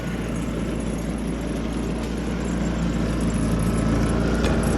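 A Harbor Freight Predator 3500 portable gasoline generator runs steadily nearby, heard from the exhaust side, a constant droning hum with a low rumble and no talking.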